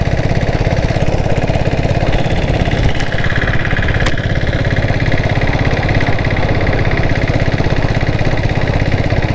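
A diesel Bullet motorcycle with a 7.5 HP turbo engine running, a loud close steady rapid thumping drone with a constant mechanical rattle, two sharp clicks, and no pauses.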